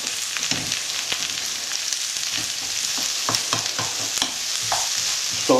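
Diced onion and Spam fry with a loud, continuous sizzle in a pan, broken by intermittent spatula scrapes and soft knocks as the mixture is stirred, no voices present.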